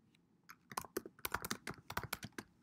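Quick bursts of close keystrokes clatter on a computer keyboard, an uneven run of sharp clicks with brief pauses and no talking.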